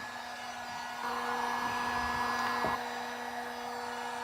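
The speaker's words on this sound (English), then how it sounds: "I used my Harbor Freight heat gun, heated this area up" A Harbor Freight heat gun blows a steady, fairly loud stream of hot air with a constant whine, swelling slightly louder for a couple of seconds in the middle before settling back; no one speaks.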